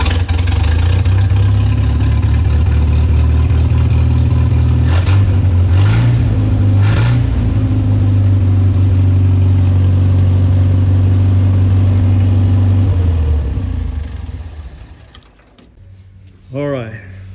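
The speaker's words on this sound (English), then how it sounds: "You just turn the key and it starts." A railroad speeder engine fires up after repair and runs steadily, loud and close with a deep rumble and a few revs, then cuts off and falls quiet near the end.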